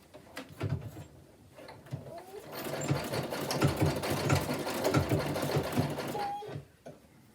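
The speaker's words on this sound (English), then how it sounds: "a treadle sewing machine" A treadle sewing machine stitching a quilt block runs steadily with a rhythmic mechanical thump and whir that builds and then slows to a stop, with faint speech under it.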